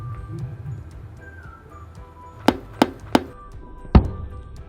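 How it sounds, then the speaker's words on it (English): Huckleberry pancakes hit a Blackstone griddle in four sharp, close thuds, the last one heaviest, with a faint sizzle running underneath. "now I'm gonna try a flip. Right. Just can't make flapjacks without flipping them."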